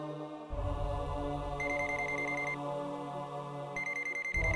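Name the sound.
phone ringing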